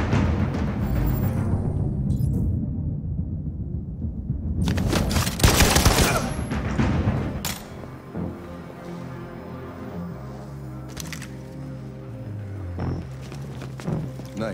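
Rapid bursts of gunfire in the Detroit: Become Human game, a loud volley near the middle followed by scattered single shots, with clattering steps and game ambience; brief voices are heard.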